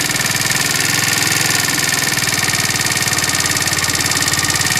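A small four-stroke 50cc engine converted to 90cc idles loud and close with a fast, steady pulsing chug and a buzzing rattle, unbroken for several seconds, with no talk.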